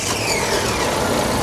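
A car's engine running, a loud, close, steady motor drone with a rough mid-range rumble and no talking.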